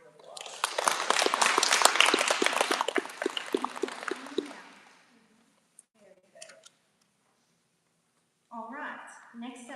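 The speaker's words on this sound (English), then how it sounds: "Give them a round of applause" Audience at a community meeting gives a burst of applause, dense and close, swelling then fading out over about five seconds, followed by near silence with a few scattered clicks and then a voice beginning to speak.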